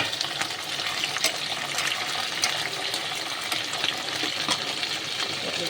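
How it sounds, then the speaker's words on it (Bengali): Pointed gourd (potol) frying in a pan while being pressed down, giving a steady close sizzle with light crackles and occasional stirring scrapes throughout, no voices. "পটলটাকে চাপা দিয়ে ভাজি"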